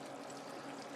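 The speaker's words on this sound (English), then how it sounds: "I'm gonna pour some of this grease in a little bit." Grease rendered from seasoned pork belly pours or trickles steadily in a continuous, fairly quiet liquid stream, with no talking.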